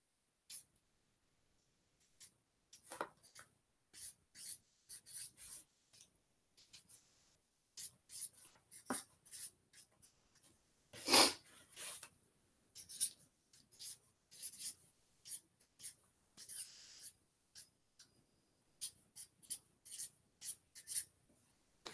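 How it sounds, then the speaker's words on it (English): A marker squeaks and scratches across a board while a sentence is written out, in short irregular strokes with brief pauses between words. "So let me write this next one."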